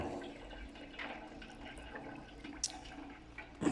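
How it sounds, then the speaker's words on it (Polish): Quiet, gentle bubbling of beeswax simmering over a low flame, with soft gurgles and an occasional sharper pop or drip. "skręca się palnik po to, żeby sobie tak lajtowo bulgotał"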